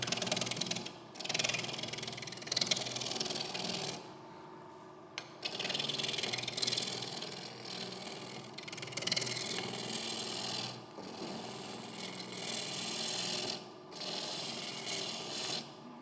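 A chisel scraping and rasping against a green-wood bolt spinning on a lathe as it is turned down to round, in steady close passes broken by short pauses, with no talk.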